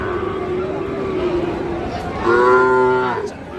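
Sahiwal bull calves moo at a livestock market, a long low bellow rising loudly near the end over a busy crowd murmur and nearby voices.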